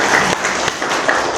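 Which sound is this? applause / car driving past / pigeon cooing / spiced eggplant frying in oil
applause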